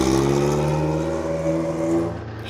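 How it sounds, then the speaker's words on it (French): Four-cylinder engine of an Alpine A110 Pikes Peak idling and revving through an open exhaust, a loud, close, steady burbling drone that swells slightly before easing near the end. "Le 4 cylindres s'ébroue, l'échappement libre libère ses premières vocalises."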